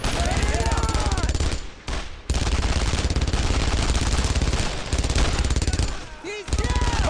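Suppressive gunfire in the World War II shooter Brothers In Arms: Road to Hill 30 rattles on as continuous, loud automatic fire with only brief gaps, while soldiers shout over the din.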